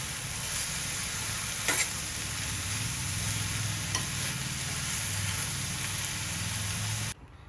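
Radish bhaji with grated coconut stir-fried in a pan: a continuous close sizzle with occasional spatula scrapes, running steadily for about seven seconds before cutting off abruptly.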